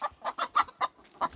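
Hens in a backyard flock cluck close by in a quick run of six short, clipped calls with brief gaps between them, with no talk over them.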